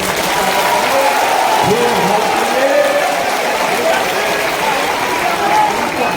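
A large rally crowd gathered in Patna for a community organisation's anniversary claps loudly and continuously, a dense, even wash of applause with crowd murmur and a brief voice heard within it.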